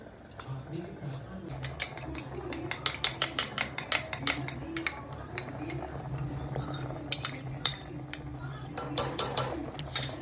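A spoon clatters and scrapes against a pot while chicken stew thickened with cornflour and a cracked egg is stirred, quick rhythmic metallic taps bunching into bursts over a low simmering background.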